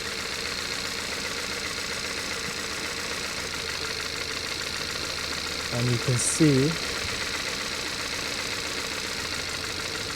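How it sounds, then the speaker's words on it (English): A car engine idles with a spark plug lead pulled off, a steady rough hum with a slight misfire, while someone talks briefly over it and a short tonal chirp sounds midway. "the engine is changing in sound. It almost feels like it's misfiring a little bit more than how it is right now"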